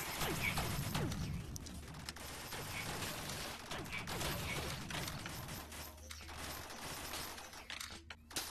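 Rapid nonstop gunfire from an infinite-ammo gun glitch in the Rec Room VR game: dense, continuous rattling shots and mechanical clatter running throughout at a fairly faint level, with occasional brief gaps near the end.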